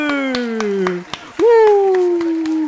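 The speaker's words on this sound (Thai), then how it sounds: "ปรบมือ" Steady, evenly spaced clapping runs under a sustained, voice-like tone that glides in pitch, like game-style applause, from The Sims 4.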